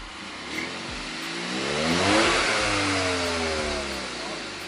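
A Hyundai i30 N-Line (140 PS) engine revs up, its pitch climbing to a loud peak around the middle, then settling back toward a rumbling idle.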